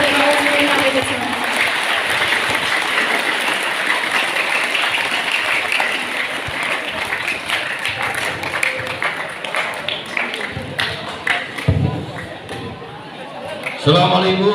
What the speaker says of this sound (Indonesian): kita beri aplaus tepuk tangan untuk Pak Rajimin.